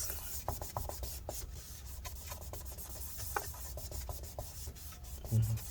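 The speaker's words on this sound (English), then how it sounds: "put some isopropyl alcohol on it, and then we're going to wipe up the residue" Paper towel dampened with isopropyl alcohol rubbed over adhesive residue inside a 2014 13-inch Retina MacBook Pro A1502, with quick, close, repetitive scrubbing strokes and faint clicks.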